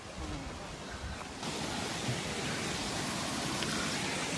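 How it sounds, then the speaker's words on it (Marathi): Monsoon rain on a trail near the hidden Kasarwadi waterfall in Radhanagari, a dense, soft hiss of falling water that swells slightly after the first second and stays even, with no voices. "आता पाऊस सुरू झालाय."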